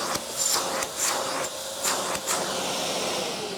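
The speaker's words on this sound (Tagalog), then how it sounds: "Boss Lawrence, ito po yung kasama po ng pressure washer ninyo, ang vacuum blower." Vacuum blower accessory supplied with a pressure washer runs steadily with an airy whooshing roar, swelling in a few short bursts over the first two seconds before settling into a constant blow.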